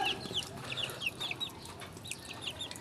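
Newly hatched heritage chicks peep in repeated high, thin chirps across a noisy background, with one brief spoken word near the start.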